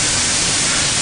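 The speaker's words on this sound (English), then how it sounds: "Nice, love that sizzle." Meat sizzles loudly in a hot pan: a steady, dense hiss that holds without a break, close up, with no voices.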